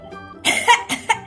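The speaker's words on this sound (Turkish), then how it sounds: "Şöyle bir öksürün bakalım." A single short cough followed by a couple of smaller throaty coughs, close and clear.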